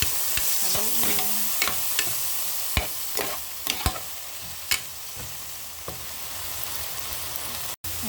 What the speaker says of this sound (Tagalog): Ayan, nagba-brown na po yung ating beef.